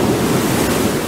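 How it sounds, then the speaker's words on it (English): A dragon's tail splashes into water in a fast-paced Wings of Fire: The Lost Heir retelling, heard as a loud, close, continuous rushing wash of water over the whole brief moment, with no voices. "Tail splash."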